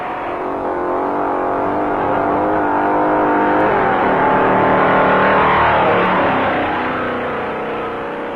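1957 Pontiac and Chevrolet stock cars race on Daytona beach, a loud engine roar swelling as a car approaches and passes, with a rising and falling pitch and layered engine tones, no speech heard.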